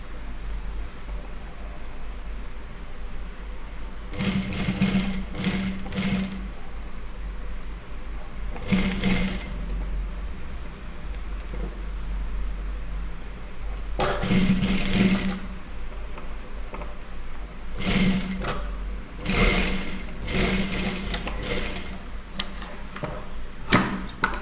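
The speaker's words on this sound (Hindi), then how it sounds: "इसे कपड़े को मोड़ कर फोल्ड करके हमें इस तरीके से बैठाते जाना है और किनारी पर ही सिलाई मारना है" A sewing machine stitches along the folded edge of cloth for a neck design, running in short, separate bursts with pauses between, close and clear over a low steady hum.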